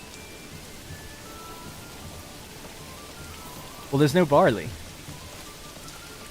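Steady rain falling in the medieval city-building game Manor Lords, a constant soft hiss across the whole stretch, with someone briefly talking over it near the end.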